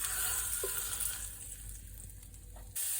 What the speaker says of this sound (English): I'll fry up the second batch of this